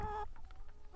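Chickens on pasture give short soft clucks, a brief louder call at the start followed by a few quiet, close clucks spaced out over a low background.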